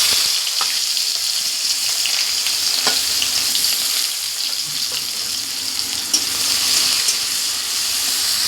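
Onions fry in hot oil in a wok, with a steady bright sizzle and occasional stirring scrapes, close and continuous, no talking.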